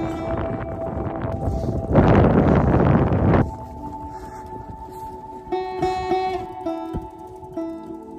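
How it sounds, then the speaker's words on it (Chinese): Strong cold wind blasts outdoors, a steady rushing roar buffeting the microphone that surges into a heavy gust for about a second and a half, then settles back, with a faint tonal drone and a few knocks underneath. "太冷了，风太大了。"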